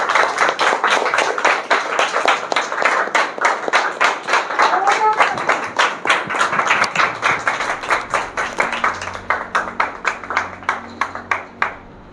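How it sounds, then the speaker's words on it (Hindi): A congregation at a Sunday church service claps in unison, sharp rhythmic beats that gradually spread apart and fade, with a voice murmuring beneath toward the end. "सब लोग उनके लिए जोरदार तालियां बजाएंगे"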